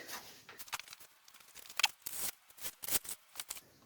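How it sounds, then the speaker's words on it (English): Several crisp snipping cuts from scissors in an irregular rhythm, close by, with small rustles of material between them, while making a centre console for a Ford Escort Mk1. "Sharper scissors would be good."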